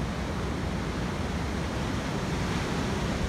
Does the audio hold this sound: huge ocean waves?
yes